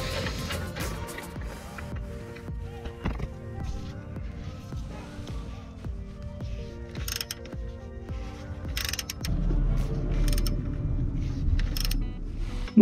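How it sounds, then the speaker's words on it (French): Wrench working a suspension nut on an Alfa Romeo 159, giving repeated metallic clicks and ratcheting turns with the occasional clank of tools. Someone talks over it, and the noise gets louder and busier toward the end. "je vais mettre la clé de 18, comme ça je vais pouvoir retenir et je vais dévisser en bas"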